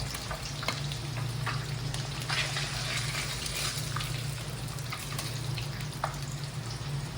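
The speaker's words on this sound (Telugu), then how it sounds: "ఇది ఇలా లైట్గా ఫ్రై అయిపోయిందండి" Pieces fry lightly in a pan of hot oil, giving a continuous even sizzle with scattered small pops and spits close by, and a low steady hum underneath, no talking.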